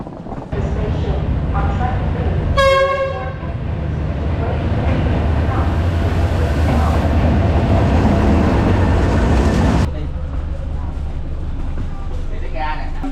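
A train rumbles steadily on the tracks with a sharp horn blast early on, while people talk over the noise before it suddenly quiets.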